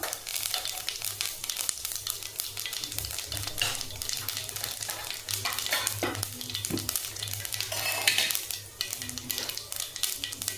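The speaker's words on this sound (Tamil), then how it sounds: "கடுகு கொஞ்சம் கடுகு ஜீரகம் சோம்பு போட்டு தாளிச்சிக்கலாம்" Mustard seeds, cumin and fennel spluttering in hot oil for a tempering, a continuous crackling sizzle with irregular pops and utensil knocks, close and moderately loud, no talking.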